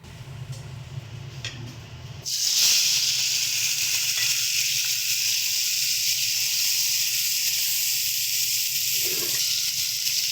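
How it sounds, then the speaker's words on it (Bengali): Prawns dropped into hot oil in a pan for a Bengali-style prawn curry: a loud, close, steady frying sizzle starts abruptly and hisses on without a break, with a faint clink near the end. "এবার চিংড়ি মাছগুলো দিয়ে ভেজে নেওয়ার পালা।"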